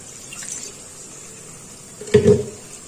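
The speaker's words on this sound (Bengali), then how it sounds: "এবার আমি এর মধ্যে একটু জল দেব" Water poured into a bowl of spice paste with curd for Bengali chitol kaliya, a brief close splash after a faint quiet moment, lasting under a second.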